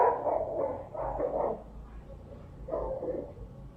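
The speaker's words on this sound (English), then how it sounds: "Rough sounding dog outside." Rough, gruff dog barking outdoors, three bursts of barks in quick clusters, moderately loud and somewhat distant, with no talk over them.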